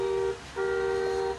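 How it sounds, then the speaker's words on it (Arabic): An electronic horn on a children's Lexus RX electric ride-on car sounds as two short, steady beeps separated by a brief gap, clear and close. "نقدر نعلي مستوى صوت الكلاكس بالشكل ده"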